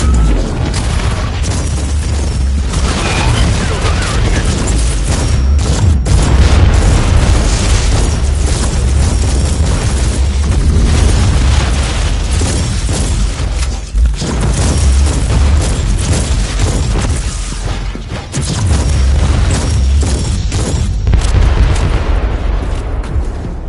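Mortar explosions in the video game Warhammer 40k Inquisitor: Martyr, a continuous barrage of loud, heavy booms and rumbling blasts with no gaps.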